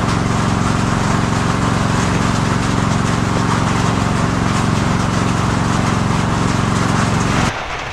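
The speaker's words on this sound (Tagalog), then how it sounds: "o yung makina yung naririnig nyo" A small engine drones loudly and steadily with a rough, throbbing hum, cutting off abruptly near the end.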